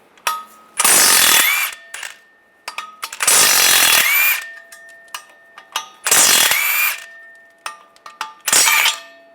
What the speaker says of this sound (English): Use a 15mm socket. Take these bolts out.